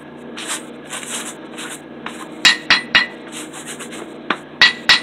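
A cable Damascus billet is hammered on an anvil, with sharp ringing blows in two clusters of three and two over a faint background of soft clinks.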